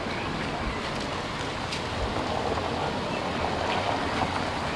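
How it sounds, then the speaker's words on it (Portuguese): Heavy rain drumming steadily on a car roof in Ubatuba, São Paulo, a dense, even wash of noise that holds constant throughout with no voices. "Mas muita chuva. Tá chovendo agora."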